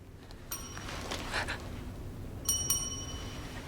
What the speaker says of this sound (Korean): 그때 리조트 카운터에서 들려오는 종소리.